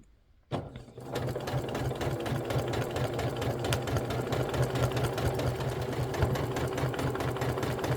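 A sewing machine stitches a line of quilting on a beginner's quilt, starting abruptly after a short silence and then running in a fast, steady mechanical rhythm, close and alone.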